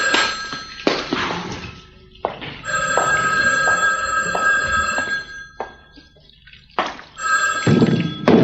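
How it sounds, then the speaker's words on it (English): A telephone bell rings in repeated bursts in an indoor soap-opera scene, each ring loud and near, with short pauses between them and no talk over it. "but the phone, Mason."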